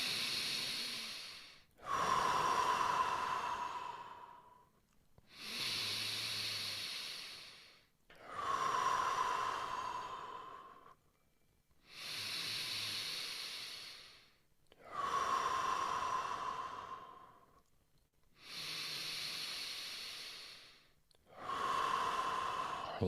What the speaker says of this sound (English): Now we're going to take 5 deep breaths, nose in, mouth out.